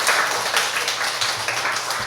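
A church congregation claps together for King Josiah during a Sunday worship service, with dense, steady applause lasting the whole short stretch at an even level.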